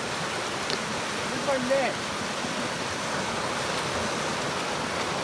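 A brown, muddy Colorado creek rushes in a steady broadband wash throughout, heard close during a fly fishing outing, while a person briefly speaks over it.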